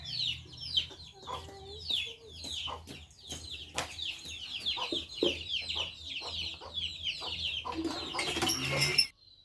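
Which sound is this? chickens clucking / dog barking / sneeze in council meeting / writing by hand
chickens clucking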